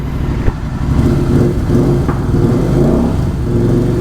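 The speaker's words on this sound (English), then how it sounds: "Doing some cold start on the bike guys." A Royal Enfield Interceptor 650 motorcycle engine, cold-started, idles with a steady low throbbing rumble that runs close and loud throughout, with a couple of brief sharper blips.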